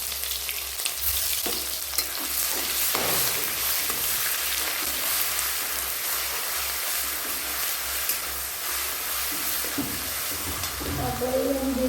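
Ground garlic paste and cumin seeds frying in hot oil, giving a steady, close sizzle with occasional stirring scrapes throughout.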